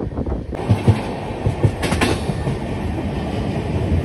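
A Vistadome tourist train from NJP to Alipurduar runs at about 95, its wheels giving a steady rhythmic clickety-clack over a continuous rolling rumble, loud and close from inside the coach.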